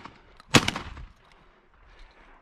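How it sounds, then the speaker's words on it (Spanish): A single sharp gunshot crack during a song thrush hunt, with a brief rumbling tail, fairly close, followed by quiet background. "mira tú el disparo"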